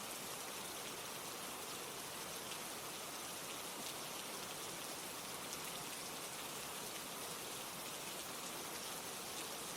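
Steady rain falling, a dense, even patter of drops across a wide band, quiet and continuous throughout with no other sounds.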